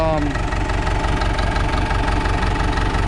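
A Case 850B dozer with low power, its diesel engine held at high idle, running with a steady rhythmic knock and pulse, close and loud throughout.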